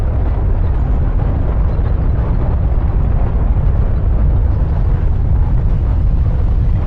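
Bombs going off in the game Not For Broadcast, heard as a loud, continuous, heavy roar of blasts that holds steady without a break for several seconds.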